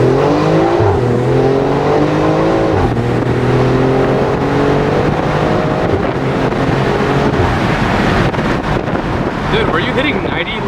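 Car drifting and revving hard with an X3M front mount intake installed, engine tones climbing and falling loudly and continuously over wind and tire noise, with people talking in the car.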